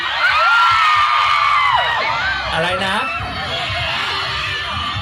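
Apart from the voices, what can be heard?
festival crowd shouting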